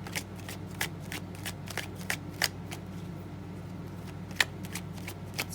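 Tarot cards being shuffled, a string of crisp papery riffles and flicks scattered irregularly over a steady low hum, fairly close and soft, with no one talking.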